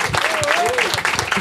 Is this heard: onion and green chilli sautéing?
no